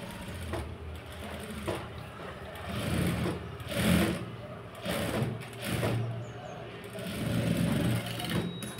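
A sewing machine stitches blouse lining and georgette fabric in several short runs of whirring, separated by brief pauses, close and moderately loud, while someone talks over it.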